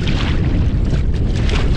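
Strong wind roars across the microphone on open water while a fishing kayak is paddled, a dense, steady rush with no talk.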